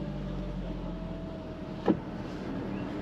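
A steady low electric motor whine hums under a running Jaguar F-Type R engine, ending in a brief thunk as the power window finishes lowering.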